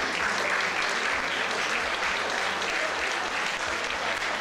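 A village show audience applauds the plants and succulents section winner, giving loud, dense, continuous clapping that holds steady from start to finish.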